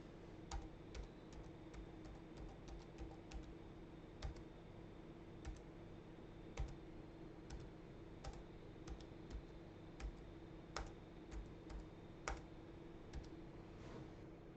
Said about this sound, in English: this is my dad's typing sound.